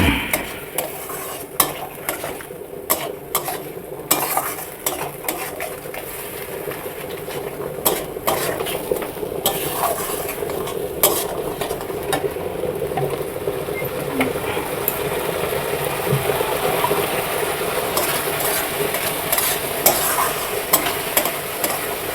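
Spice masala with chilli powder and turmeric for a Bengali fish curry frying in a pan, a continuous close sizzle with repeated spoon scrapes and clinks against the pan throughout, no talking.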